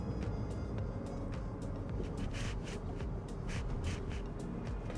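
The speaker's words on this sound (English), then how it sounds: "Let's take the speed bump." A 2025 Toyota RAV4 GR with stiffened GR suspension rolls over a speed bump, heard from inside the cabin as a steady low road rumble with a few soft, brief thumps and rattles midway, no talking.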